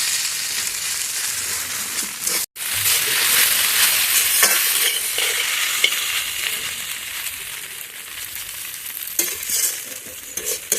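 Fried egg bhujia being stirred through cooked Maggi noodles in a hot pan, a steady close sizzle and scraping stir running throughout, with one brief break early on and no talking.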